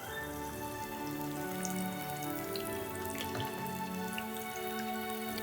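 Corn frying in hot oil, the crispy Schezwan corn for monsoon bhutta pakoras, gives a steady, dense crackle and sizzle like soft rain. It holds an even level throughout, close by, with no talk over it.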